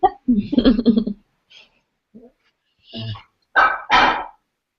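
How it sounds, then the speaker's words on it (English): An excited pet dog indoors gives several short, close barks and yips in uneven bursts separated by brief quiet gaps; no clear talking. "my dog just came in and she's very excited"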